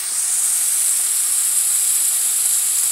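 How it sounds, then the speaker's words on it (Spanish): Beaten egg frying in plenty of olive oil in a pan, giving a steady, even hiss and sizzle that holds without a break from start to end, with no voices. "Me gusta ponerle poquito más aceite para que se fría así bien rico."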